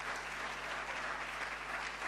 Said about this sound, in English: And they deserve a big round of applause.